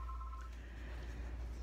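A telephone gives a brief tone near the start over a low hum, then a faint steady electronic tone lingers quietly.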